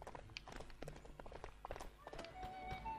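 Game sounds of riding a goat in Lego The Lord of the Rings: quick, steady hoof-like clip-clops under busy music and effects, with a brief animal cry partway through.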